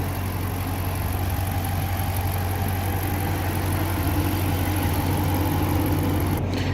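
A 2017 Dodge Charger RT with a 5.7L engine, running with no engine cover, gives a steady, loud, close idle rumble alone that holds at an even level.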